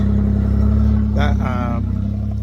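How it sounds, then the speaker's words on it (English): A Holden Statesman V6 idles steadily close by with a low, even hum, while a person speaks briefly over it. "That Statesman quality is only a V6, but it sounds pretty good."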